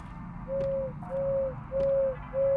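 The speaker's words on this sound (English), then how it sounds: "The animatronic bird. He's hooting and hollering." Animatronic owl in the video game Crow Country hooting four times in a steady, evenly spaced sequence of sustained tonal coos, each about half a second long, fairly loud and alone over a low hum.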